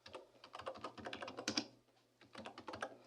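Rapid computer keyboard typing while entering a business name, a dense run of close, crisp key clicks in two bursts separated by a short pause, with a low steady hum underneath and no talking.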